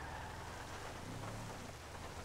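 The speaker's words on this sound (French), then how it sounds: "faut faire attention avec la pluie" Rain in the video game GTA 5 during a mountain police patrol, a steady faint hiss of falling rain with a low rumbling undertone, continuous and even throughout with no talking.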